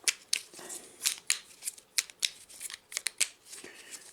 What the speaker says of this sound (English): And then you're going to shuffle these up.